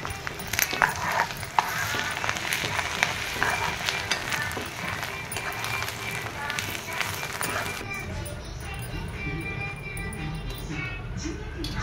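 Ginger garlic paste and green chili sizzling in a pan while being stirred, a steady frying hiss with scraping stirs, with a voice talking over it.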